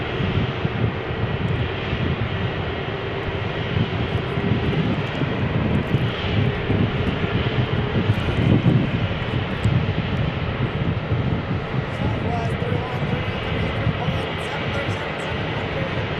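An airliner's jet engines roar continuously at Phoenix airport, a loud broadband rumble holding steady throughout with a slight swell midway, with no clear talk over it.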